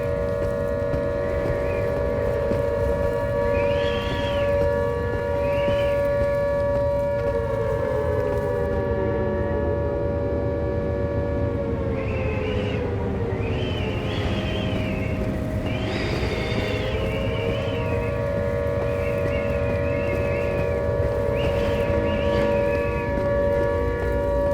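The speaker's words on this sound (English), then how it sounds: "That siren is scaring me to my core." A civil-defense-style siren wails continuously in the VR game Into the Radius, its tone rising and falling in slow sweeps over a steady electrical hum, loud and sustained with no talk.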